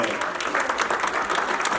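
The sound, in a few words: church congregation applause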